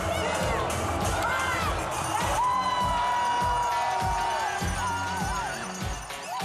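A large crowd at a butchery competition roars and cheers through a countdown, loud and continuous with shouting voices and whoops layered together.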